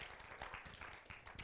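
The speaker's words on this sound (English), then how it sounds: "let's give her a hand clap of appreciation" A church congregation clapping in appreciation at a service, a faint, brief patter of many hands clapping together at a distance.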